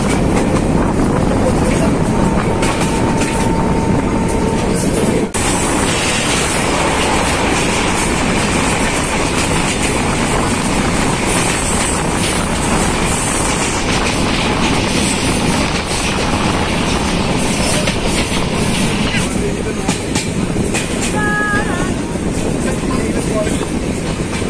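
A passenger train runs steadily along the rails on a journey toward Talma, a continuous loud rumble with clattering wheels and faint squeals, and brief voices in the carriage.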